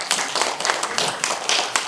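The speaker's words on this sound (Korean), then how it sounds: "큰 박수로 환영해 주시기 바랍니다" An audience at a Buddhist education seminar claps to welcome a research professor monk, with brisk, dense clapping over a short burst and no talk.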